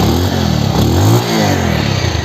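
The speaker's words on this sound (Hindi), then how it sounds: "आपको रेस देनी है।" A used motorcycle's engine is revved hard while being checked before purchase, a loud, steady close-up roar with rising and falling pitch sweeps and some mechanical clatter throughout.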